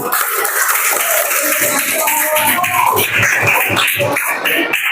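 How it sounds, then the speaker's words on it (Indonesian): Children in a coding and AI class clapping together, quick uneven claps close by, with some voices mixed into the busy classroom noise. "Oke, berikan tepuk tangan."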